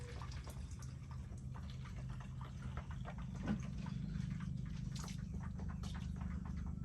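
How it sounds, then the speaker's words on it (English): Water poured from a larger jerry can into a small bottle while watering oyster mushrooms, a steady low trickling and filling sound running throughout at moderate level. "So I'm getting water from the bigger jerry can into the small bottle."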